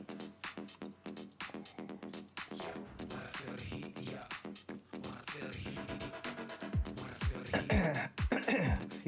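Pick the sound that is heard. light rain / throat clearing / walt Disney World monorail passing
throat clearing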